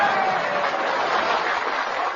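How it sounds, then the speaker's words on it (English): Miners thunder applause in a theater, a dense, steady wash of clapping and cheering from a large crowd, sustained and even with no gaps. "the miners thundered their applause"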